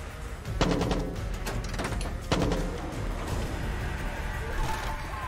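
Two sharp, loud gunshots in Far Cry 6 ring out about two seconds apart, followed by a steady background rumble and clatter typical of game audio.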